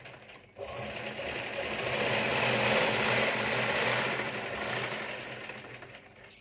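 A sewing machine stitches along a folded fabric strip, its steady close whirring running almost the whole time after a brief quiet start.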